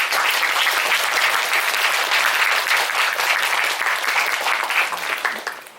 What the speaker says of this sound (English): Professor Wang, please give here a great applause there.